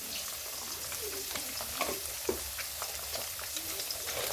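Onions fry with egg in a pan at home for a pasta dish, giving a continuous bright crackling sizzle dotted with small pops and occasional soft stirring scrapes, fairly quiet and without talk.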